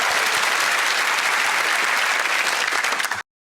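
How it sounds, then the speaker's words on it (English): Studio audience on the ITV game show Bullseye bursts into dense, steady clapping for about three seconds before it cuts off abruptly. "I think it's the constant clapping for everything."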